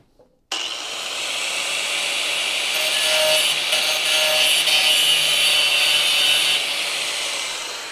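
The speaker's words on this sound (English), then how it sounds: "Shouldn't use the back side of the cutting wheel to do that." An angle grinder cutting wheel is run against truck frame rail flanges to straighten them, starting abruptly after a brief pause and holding a loud, steady high-pitched grinding whine that swells slightly while working, nearby.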